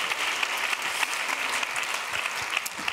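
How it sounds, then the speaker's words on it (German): Steady audience applause fills a hall at a panel event at the Baden-Württemberg state parliament, a dense, even wash of many hands clapping for the full stretch with no voices above it. "Großer Applaus,"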